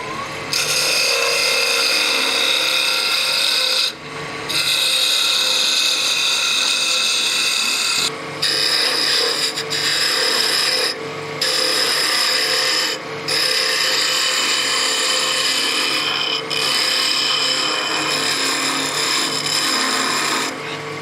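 A wood lathe spins steadily while a tool tapers a wooden blade, producing a loud, continuous scraping and rasping hiss broken by a few short pauses.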